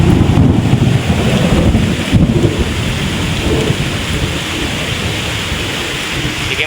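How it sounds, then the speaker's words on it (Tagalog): Thunderstorm with heavy rain and strong wind during coastal crab hunting in the Philippines: a dense, loud roar of downpour and buffeting wind on the microphone, with low rumbles of thunder, continuous and close throughout. "Malakas yung hangin tsaka ulan."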